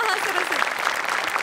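A studio audience at a Marathi comedy show claps loudly and continuously for a brief moment, with some vocal tones riding over the dense applause.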